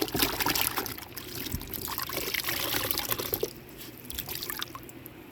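Water runs and splashes over chrome motorcycle exhaust pipes during a rinse after cleaning with paste and degreaser, a steady close hiss of spray and trickle that drops slightly softer in its last seconds.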